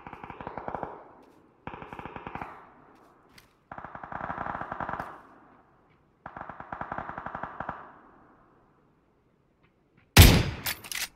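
Bursts of automatic gunfire in the video game PUBG, five separate rapid volleys spaced a second or two apart at moderate distance, ending in a sharper, louder burst close by.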